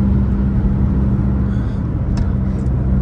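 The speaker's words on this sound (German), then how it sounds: "Hört sich so an, als ob ein Loch im Auspuff ist." Smart ForTwo 450 coupe raised on a lift, its exhaust holed and giving a loud, steady low rumble like a race car, running continuously with no pauses.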